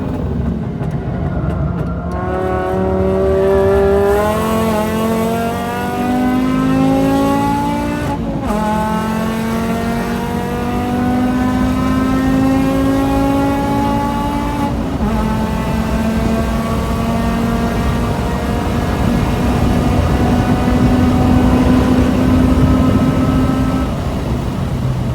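A tuned VW 2.5 car accelerating hard on a race track, its engine note climbing in pitch through the gears as a loud, continuous roar with no talking.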